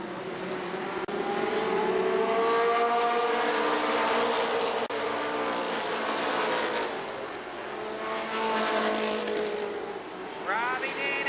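Race cars lapping an oval, including Robbie Dean's spec-engine number 94 chasing Humphrey, scream past in rising and falling engine whines that swell and fade as cars pass, with a race commentator talking over the roar.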